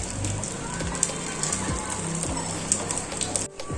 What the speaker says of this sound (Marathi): थोडंसं नॉर्मलचं तेल सोडायचं साईडला आणि आपण हे दोन्ही साईडून भाजून घ्यायचं।